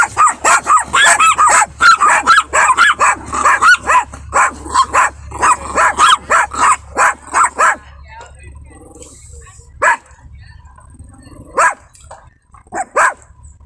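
A dog barks repeatedly in quick, loud bursts during a roadside stop, then the barking thins to a few scattered yips and whimpers, with voices talking around it.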